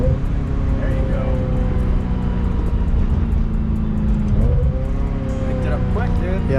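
A 25-year-old Ferrari, top down, driving and accelerating: a steady loud engine drone from onboard with rising pitch as it revs, a brief dip as a gear changes, then climbing again.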